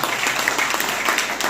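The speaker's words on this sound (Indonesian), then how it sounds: "Tepuk tangannya yang meriah bagi Tuhan Yesus." A church congregation at a Christmas service in Banjarmasin breaks into dense, sustained applause, a steady wash of many hands clapping throughout.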